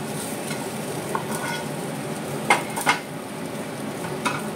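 Vegetables and frozen peas are stirred in a pan for veg pulao, giving a low, steady sizzle with a few light scrapes and clinks of the spoon against the pan, close by and with no talking.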